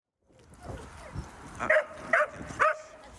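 Water-leak detection dogs trained to smell chlorine give three sharp, close barks in quick succession after some quieter whimpering and movement.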